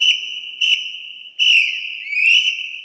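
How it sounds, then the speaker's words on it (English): A futsal referee's whistle gives several shrill blasts, two short ones then longer sustained blows, clear and close with silence between. "After the game is done, the referee blows the whistle."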